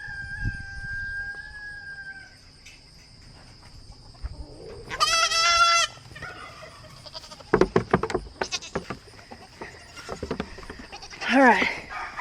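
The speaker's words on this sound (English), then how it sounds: "I gotta get the goat." A goat bleats in a farmyard in a loud, wavering burst, followed by a later shorter bleat, with a rooster crowing early on and scattered shuffling and bumps close by.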